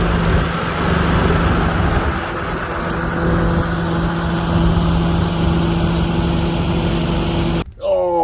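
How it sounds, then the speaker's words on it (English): Antique tractor engine running steadily and loudly up close, a constant droning hum with harmonic tones, continuing as the machine keeps moving with the clutch pushed in; the engine cuts off abruptly near the end. "I'm going to show you a side view of the tractor still moving after I push the clutch in without the coupler or the override"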